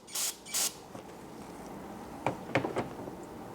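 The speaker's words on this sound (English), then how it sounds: "You're going to spray a little bit on the towel." Two short, sharp hissing bursts of throttle body cleaner sprayed from a can onto a shop rag or microfiber towel while servicing a Toyota throttle body, followed by a few faint handling clicks.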